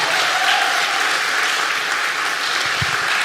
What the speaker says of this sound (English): give him a round of applause for stepping up